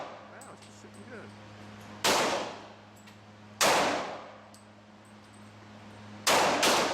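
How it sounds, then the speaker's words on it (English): .45 pistol shots at target practice, three loud sharp reports spaced a second or two apart, each ringing out and decaying, with a steady low hum between them. "Wow, she's shooting good."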